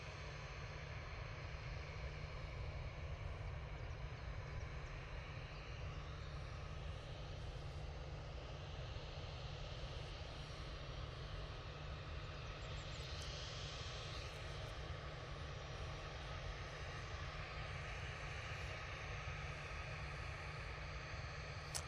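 A Ryanair airliner passes at an airport, heard as a faint, steady wash of engine noise with a low rumble that holds constant and quite far off, with no voices.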